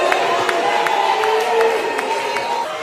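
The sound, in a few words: audience applauding a talent show contestant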